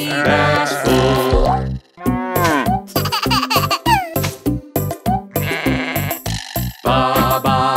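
Sheep bleats repeat within a bouncy children's nursery song, each bleat short and close, alternating with sung lines over steady backing music.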